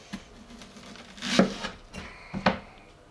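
A big sharp knife slices an onion on a wooden board, a few soft separate cuts and taps spread out with quiet gaps, close and fairly faint.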